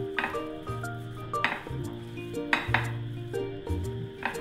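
Chicken chapli kebab mixture being mixed by hand in a bowl, with repeated clinks and knocks of dishes and utensils at an irregular pace, close by and without talk.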